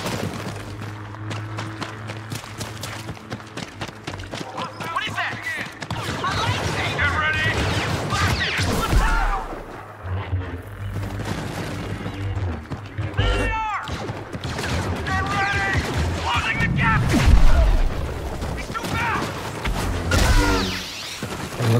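Blaster fire crackles in Star Wars Battlefront 2 as Luke Skywalker's mission plays, repeated sharp bursts and thuds scattered among music and voices talking, loud and busy throughout.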